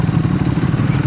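A Triumph motorcycle engine on a Mustang ride idles close by, a brief steady low-pitched throb with a rough, pulsing rumble.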